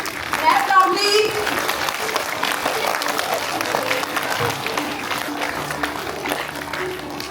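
School audience at a Founders Day celebration clapping for a class teacher, a broad crowd applause mixed with children's voices and background chatter, moderately loud and sustained.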